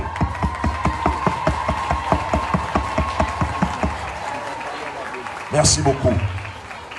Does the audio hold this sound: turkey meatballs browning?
no